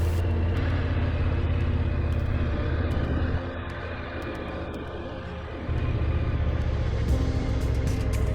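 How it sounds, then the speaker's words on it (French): Motorcycle engines rumble steadily and loudly as two adventure bikes, a Honda Africa Twin 1100 and a Yamaha Ténéré 700, ride off-road, with a brief softer dip in the middle before the drone swells again. "Nous voilà partis pour notre deuxième sortie de l'année avec nos Maxi Trail, une Honda Africa Twin 1100 et une Yamaha 700 Ténéré."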